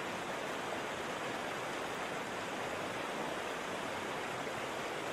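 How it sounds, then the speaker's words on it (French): Rushing water from a stream or waterfall pours continuously, a dense, steady broadband roar with no breaks, no voices and no other sounds. "Les sons tumultueux de l'eau deviennent une invitation à se perdre dans l'instant présent."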